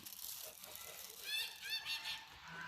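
Geese honk in a short burst of nasal calls midway through while eating fallen apples on a farm, several overlapping, over a steady outdoor hiss with some faint background activity.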